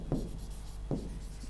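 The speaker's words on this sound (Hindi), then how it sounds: "सुधा, अमीय, सोम, सुधा, अमीय, सोम लिखेंगे।" Two quick strokes of writing on a board sound close and quiet, each a short scratchy swipe about a second apart over faint background hum.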